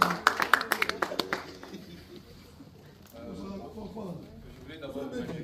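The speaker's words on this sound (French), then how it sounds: "Monsieur Picha, applaudissez encore très fort." Sharp, scattered hand claps from an audience at a stop-violence exhibition evening, a quick burst of distinct claps lasting about a second and a half that stops, followed by people talking.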